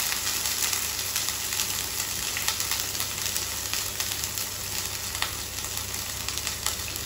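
Ginger garlic paste fries in a pan for a masala egg curry, giving a steady, dense sizzle that is loud and close. It goes on unbroken with a few faint stirring scrapes and nobody talks.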